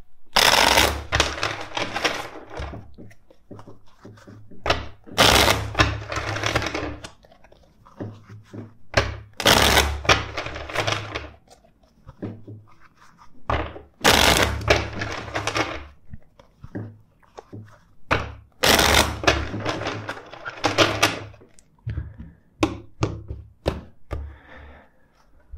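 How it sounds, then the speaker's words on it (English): Tarot cards are riffled and shuffled in repeated bursts, sharp rapid flutters and taps close up, separated by quieter pauses. "Let's shuffle the deck three more times"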